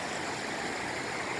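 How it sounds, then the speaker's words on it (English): River water rushes over oxygenation steps in a constant, dense roar, loud and close with no pauses across the short stretch. "And this is why the river is so loud."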